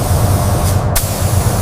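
A spray gun lays a sealer coat of silver blue metallic paint system onto a Jaguar XJ220 body shell, a short hissing burst over a steady low background rumble.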